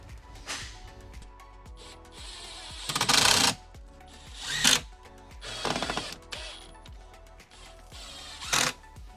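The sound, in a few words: driving screws into wood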